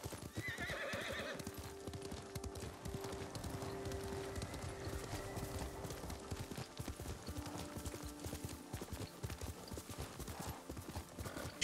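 A horse in the video game Ghost of Tsushima whinnies loudly near the start, then hooves clip-clop steadily at a gallop amid game ambience, with a neigh and rhythmic hoofbeats running throughout.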